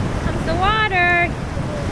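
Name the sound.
Atlantic Ocean waves coming in on the beach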